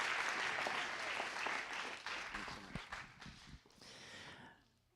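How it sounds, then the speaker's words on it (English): A banquet crowd applauding the cross-country coaching staff, a dense burst of clapping that is fairly faint and distant, thinning out and fading toward the end. "So a big round of applause for your coaching staff."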